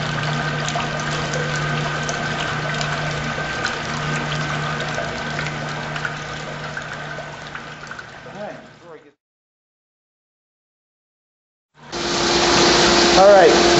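A brewery pump moves wort from the mash tun to the kettle, a steady liquid rush and hum that fades, cuts to silence, then returns loudly.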